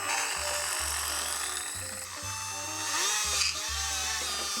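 A big, long drill bores into wood to make a wooden pipe, its motor whining loudly and steadily with the pitch dipping and recovering as the bit bites, up close with no talk.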